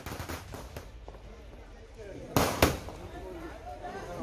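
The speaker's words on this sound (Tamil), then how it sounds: "வெற்றி பெற்றவர்கள் பட்டாசு வெடித்து கொண்டாடினர்" Firecrackers at a local election victory celebration in Tirunelveli, scattered pops early then two sharp loud bursts close by, over a background of crowd noise and voices.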